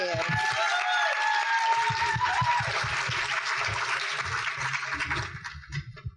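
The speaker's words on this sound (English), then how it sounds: "One more round of applause, please." At a symposium luncheon, an audience claps in a steady wash behind a nearby voice, the applause fading out near the end.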